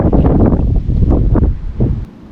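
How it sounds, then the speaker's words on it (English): Outdoor wind gusts buffet the microphone while a 1984 Chevy van roof is being repaired, a loud broadband rumble swelling and easing for a couple of seconds before dropping off. "now we got the wind"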